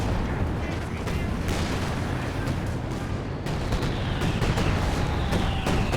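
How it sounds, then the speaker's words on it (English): Heavy artillery fire in the World War II strategy game Company of Heroes 2 rumbles as a dense, continuous barrage of booms and blasts, with a louder impact near the middle, all under a steady battle din. "Heavy artillery going down."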